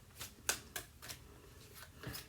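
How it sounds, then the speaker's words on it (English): Large oracle cards are shuffled by hand in a series of crisp, papery riffles, about six quick bursts spaced irregularly, close and quiet with no talking. "Shuffling those big note cards from school"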